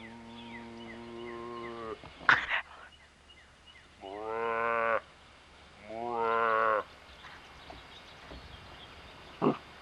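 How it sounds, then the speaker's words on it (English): Two drawn-out, low moo-like calls, each lasting about a second, with a few short sharp noises between them and faint background hum. "Do the cow sounds again."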